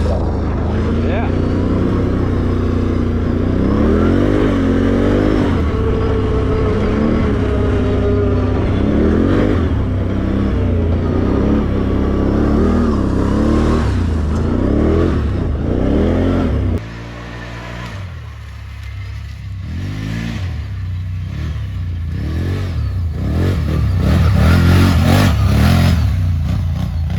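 Can-Am Renegade 1000 ATV engine running under throttle, loud and close, rising and falling through repeated revs while someone talks over it; the engine drops lower and then builds again near the end.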